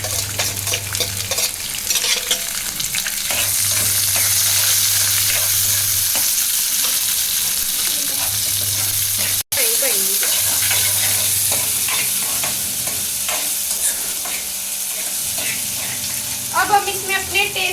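Roasted peanuts and chopped onions frying in a pan, a loud, continuous close sizzle with frequent stirring scrapes and a brief break partway through, and a short stretch of faint voice and water near the end.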